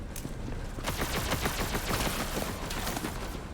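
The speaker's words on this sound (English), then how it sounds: "Who is shooting at me?" Rapid bursts of gunfire in Borderlands 3, dense crackling shots in quick succession, loud and sustained for several seconds with no voices over it.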